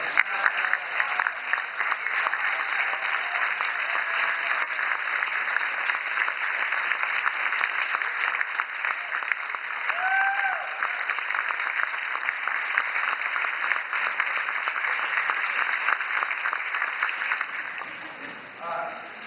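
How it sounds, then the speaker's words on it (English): A large gala audience at a service awards ceremony rises and applauds, a dense, sustained roar of clapping that runs steadily for most of the stretch before tapering off near the end. "Get out of your chairs, stand up, and I want a huge round of applause."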